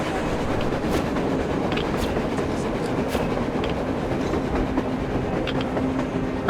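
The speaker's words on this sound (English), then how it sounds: "A train! A damn train on the surface!" A train rumbles across the surface in the video game Metro Exodus, a continuous low rolling roar with faint clickety-clack and occasional metallic squeaks, steady and fairly loud throughout with no talk.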